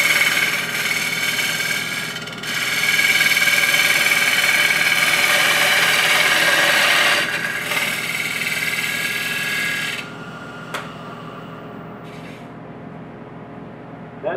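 A wood lathe spins while a Hunter Viceroy scraper takes a light cut, giving a loud, steady whirring hum with a brighter cutting hiss that eases off partway through before the machine settles quieter near the end.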